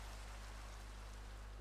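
Steady rain falling in Minecraft with the Feed The Beast modpack, a continuous even hiss with a low hum underneath, alone and unbroken throughout.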